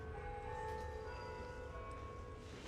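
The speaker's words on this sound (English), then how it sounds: "That's chimes." Soft chimes ring steadily with sustained tones over a dense, low background rumble, distant and fairly quiet, near the Sagrada Familia in Barcelona.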